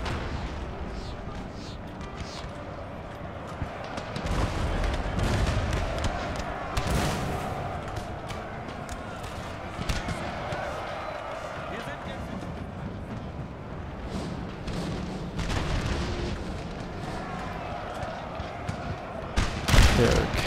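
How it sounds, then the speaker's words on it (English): Cannon and musket fire from a Napoleon: Total War battle rolls on continuously, with heavy booms and crackling volleys rising and falling while a voice talks over the din. "And so begins the firefight."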